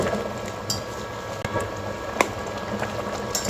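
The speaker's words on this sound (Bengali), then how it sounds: "প্রথমে হাই হিটে দিয়ে একটা বলক তুলে নেব বলক চলে এসেছে" Beef curry for kala bhuna boiling hard on high heat in a pot, a steady bubbling simmer with occasional small clinks and pops, close and moderately loud, no talking.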